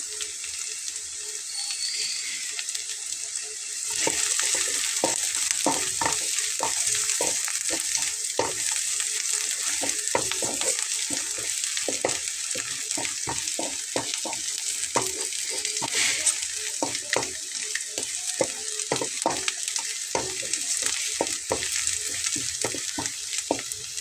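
Whole cumin seeds fry in hot oil after a quiet start, breaking into a steady sizzle with sharp crackles and stirring clicks scattered throughout, close and clear.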